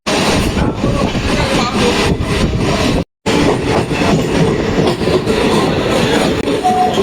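A Sealdah to Ranaghat suburban local train running at speed, a loud steady rumble with rattling carriages and clattering wheels on the rails, broken by one very short cut near the middle.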